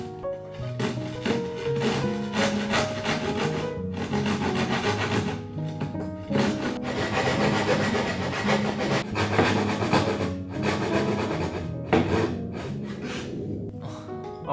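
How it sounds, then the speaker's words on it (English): A Japanese pull saw cutting corners on a boat gives rough, repeated rasping strokes up close, a continuous scraping rhythm broken by a few brief pauses. "So for that, I'm gonna grab my Japanese pull saws."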